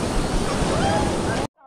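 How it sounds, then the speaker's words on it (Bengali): Ocean surf breaks on a crowded beach, a steady, close, full-bodied roar of rushing water that lasts about a second and a half before cutting off abruptly. "ঢেউটা আসছে, তাড়াতাড়ি নাও।"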